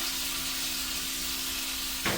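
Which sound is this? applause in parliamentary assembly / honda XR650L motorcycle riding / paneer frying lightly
paneer frying lightly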